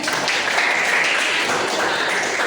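A classroom breaks into a steady wash of applause, many hands clapping together densely and evenly throughout, with no voices standing out.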